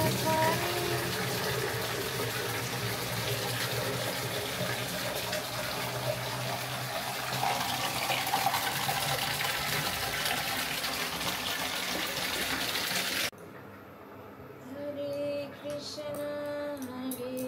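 Water gushing steadily from a kitchen tap, a loud continuous rush that runs close for most of the time, then drops to a lighter flow near the end.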